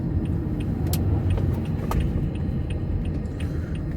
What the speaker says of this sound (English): Morning traffic, yuck.